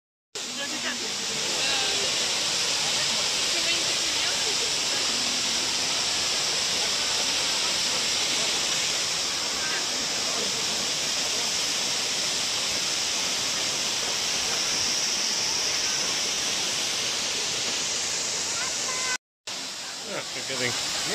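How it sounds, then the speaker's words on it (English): Continuous rushing hiss of the fountain water display at Bergpark Wilhelmshöhe's Wasserspiele, a broad, loud, steady spray and splash that fills the clip and cuts out briefly near the end. "And that is the crowning final of the whole show. The fountain."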